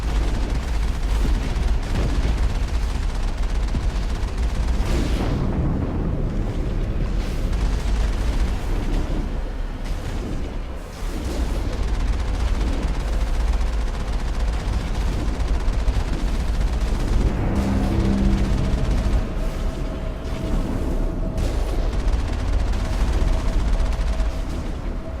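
Cannon fire in the Starflight space game: dense, continuous booming blasts and rumbling explosions keep going for the whole stretch at steady, loud volume, with no talking over them.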